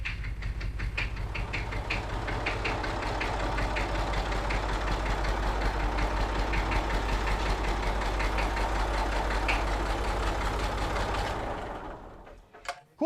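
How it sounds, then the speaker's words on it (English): Machinery on a classic car in a garage runs as a steady, low mechanical drone with an engine-like hum that continues for several seconds, then cuts off. "Hydraulics working."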